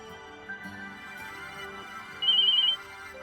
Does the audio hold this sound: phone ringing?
yes